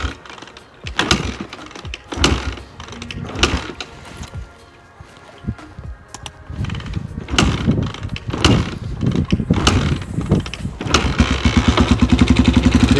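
A Honda XR200 motorcycle engine is kicked over repeatedly with sharp bursts, catches on full choke and settles into a steady, fast idle near the listener, with a low rattling mechanical beat.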